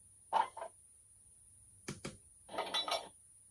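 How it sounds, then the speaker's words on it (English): An Accurascale OO gauge DRS class 37 model with a DCC sound decoder gives quiet metallic buffer-up clanks. A short clink comes first, then a double knock, then a longer rattling clatter. "Function 14 is buffer up."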